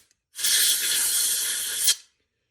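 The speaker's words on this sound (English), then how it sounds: "try to get that stuff sprayed out of there really good." Carb cleaner sprays into the float bowl of a KX125 carburetor as a single close, loud, steady hiss lasting about a second and a half, ending abruptly with a small surge before silence.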